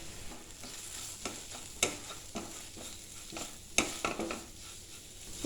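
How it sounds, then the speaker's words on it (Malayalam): Spice powders, including turmeric, chili, coriander and garam masala, are stirred in a pan over a low flame, giving a steady scraping stir with soft sizzling and a few sharp utensil clinks, close and alone. "നമ്മുടെ പൊടികളുടെ പച്ചമണം മാറുന്ന വരെ 2 മിനിറ്റ് ഒന്ന് ഇളക്കി കൊടുക്കുക"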